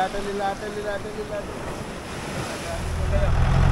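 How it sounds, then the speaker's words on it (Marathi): Ocean waves wash and surge on a Goa beach amid steady wind noise, growing louder toward the end, with faint voices in the background. "या आल्या लाटा आल्या"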